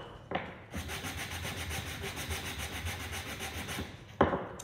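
Timber being sanded by hand, steady back-and-forth rasping strokes in a continuous close rhythm for several seconds, bracketed by brief bumps at start and end, no talk.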